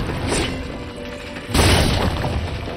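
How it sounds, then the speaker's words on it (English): Crystals get smashed in Final Fantasy VII Rebirth, with two heavy booming impacts about a second apart, each a loud crashing thud with a bright shattering edge, close and punchy. "Let's destroy these crystals first."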